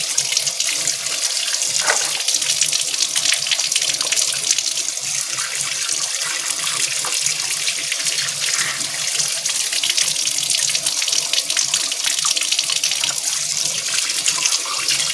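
Raw chicken rinsed under a running kitchen tap, a continuous loud rush of water splashing into a sink that holds steady throughout, close by with no talking.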